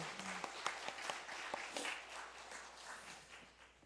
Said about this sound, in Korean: 우리 격려의 박수 한번 해드릴까요?